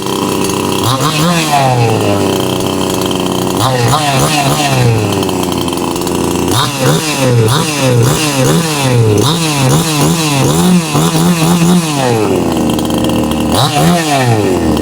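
A Patelo 5460 chainsaw runs after carburetor tuning, its loud two-stroke engine repeatedly revving up to a high whine and dropping back to idle in close, uninterrupted bursts.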